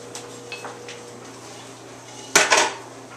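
A big cooking pan handled in a kitchen while making a large batch of vegan chili, a few light knocks early, then one loud metallic clatter and scrape near the end, no talking.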